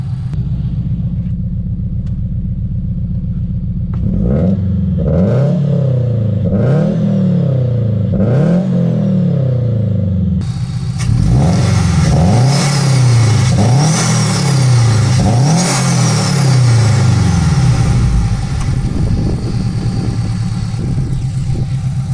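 A street-tuned supercharged Subaru BRZ revs repeatedly in sharp, evenly spaced bursts, loud and close, then settles into a stronger sustained run with more revs.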